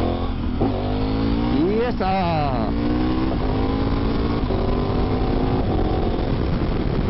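A KTM 1290 Super Adventure S motorcycle engine revs and accelerates while riding, its tone rising and falling through gear changes under steady wind roar, with a rider talking over it.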